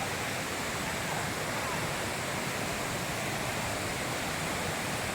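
Water pours steadily down the Dugdhdhara waterfall at Amarkantak, a dense, even roar of falling water that stays loud and constant throughout with no other sounds standing out.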